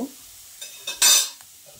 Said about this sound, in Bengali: তারপর বেগুনগুলোকে আরও একবার এইভাবে নেড়ে চেড়ে নিচ্ছি।